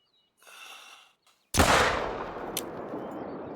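A single loud rifle shot is fired at an animal while hunting in theHunter: Call of the Wild, with a sharp crack and a long rolling echo that fades away, after a faint rustle.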